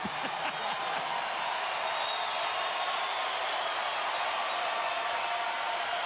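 A basketball crowd at a Gonzaga vs Saint Mary's game gives an ovation after a player makes two free throws, a sustained, even roar of cheering and applause filling the arena throughout.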